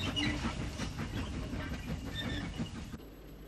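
A former Midland Great Western 0-6-0 tank locomotive hauls vintage parcels and fitted vans through an Irish station, a steady rumbling roll with faint clicks of wheels, moderately near, cutting off abruptly near the end.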